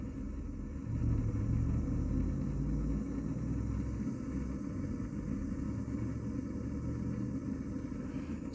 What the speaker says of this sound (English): That's how you know your pilot light's lit, and you should be able to hear it running